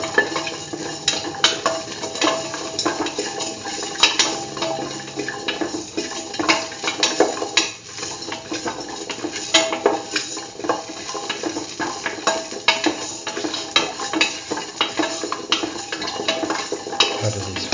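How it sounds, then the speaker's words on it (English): A spoon stirs curried beetroot and mung bean stew in a pot as salt is mixed in, giving repeated scraping and clinking against the pot with a faint wet sizzle underneath, close and continuous. "Salt and mix thoroughly."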